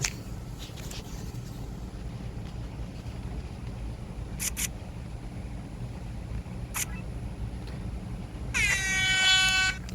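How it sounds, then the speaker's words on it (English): An air horn item in the video game Dandy's World blares loudly near the end, a brief harmonic honk after quiet game ambience with scattered clicks. "We got air horn."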